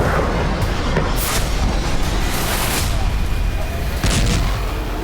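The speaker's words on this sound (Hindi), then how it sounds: "जहां बैक टू बैक रूस के 2 ड्रोन टकराए, जिसके बाद भीषण धमाके देखे गए" Heavy, continuous rumbling blasts from two Russian drones striking back to back in wartime Ukraine fill the whole stretch, loud and dense, with a couple of sharper bursts standing out against the roar.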